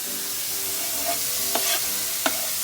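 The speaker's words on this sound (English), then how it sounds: "Again, I'm just going to stir it around a bit." Onion being stirred in a pot with pork, a steady soft sizzle under a few distinct scraping spoon strokes, close and moderately quiet, with no talking.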